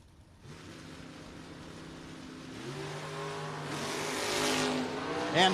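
A Camaro and a Roadster launch down a drag strip at a no-box shootout, engines building from a low idle to a loud rising roar as the cars accelerate away, with a sharp burst at the end.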